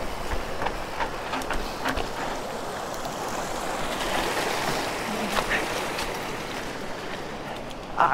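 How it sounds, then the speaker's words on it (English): Mountain bike riding into a flowing creek on the Molas Pass trail, with water rushing and splashing continuously throughout and a few sharp knocks and clatters from the bike. "Right into a creek."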